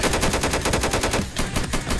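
Rifle fire in a Minecraft mod modeled on PayDay 2, a fast, loud, rhythmic stream of automatic shots, briefly pausing before another burst.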